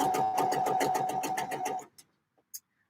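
A sewing machine stitching a seam: a fast, even mechanical chatter with a steady hum for about two seconds, then it stops, leaving only a few faint clicks and handling sounds.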